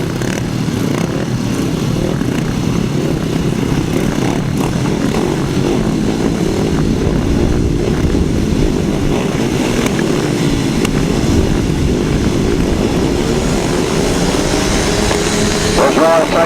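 Unlimited cc solo grasstrack motorcycles at a championship meeting roar off at the start of a race, a loud continuous engine din close by, with an announcer talking over it.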